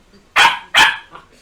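A dog barks twice in quick succession, loud and close, each bark sharp and full, followed by a softer third yelp trailing off.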